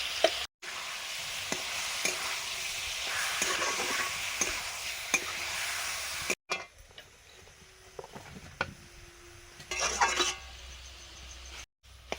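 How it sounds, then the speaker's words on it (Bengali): Grated carrot frying in ghee in a pan, stirred steadily: a close, dense sizzle with frequent scraping and tapping of the spoon, interrupted by brief cuts, and quieter stretches of stirring later. "ঘি দিয়ে গাজরটা অনেক সময় ভাজার পরে জলটা দেখুন একদম শুকনো হয়ে গেছে"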